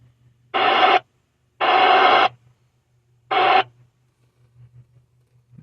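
Marine band VHF radio tuned to channel 16, giving off three bursts of loud hissing squelch static, each lasting roughly half a second to a second, with a faint low hum and quiet gaps between bursts.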